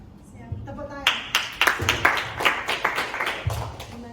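An audience at a school teachers' session claps together, a short burst of many hands rising quickly and fading over a few seconds, close, after a voice speaks at the start.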